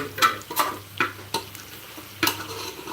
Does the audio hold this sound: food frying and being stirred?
yes